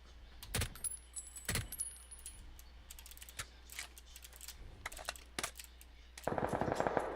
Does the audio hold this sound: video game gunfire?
yes